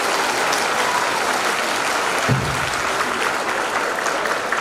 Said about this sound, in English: Please applaud loudly. You know, a small bit of applause.